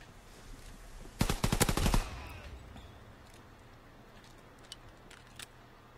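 Rapid machine pistol fire from Call of Duty: WW2 multiplayer, a short burst of about six fast, sharp shots lasting under a second, followed by a quiet background and a couple of faint distant pops.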